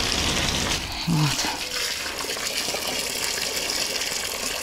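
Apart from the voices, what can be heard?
water gushing from a well borehole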